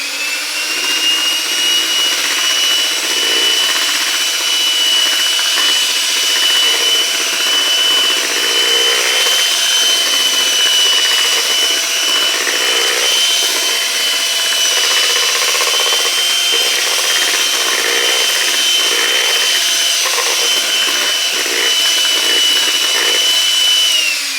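An electric mixer runs on low speed through pistachio cake batter, a steady, loud, even motor whine with faint churning that continues unbroken for over twenty seconds without speech.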